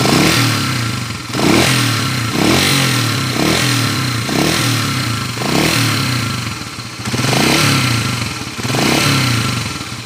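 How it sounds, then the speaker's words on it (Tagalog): A Pinoy 155 motorcycle engine idles and revs close by, its noisy number 1 timing gear adding a rattling clatter, with the engine surging in repeated waves every second or so. "maingay yung number 1 timing gear"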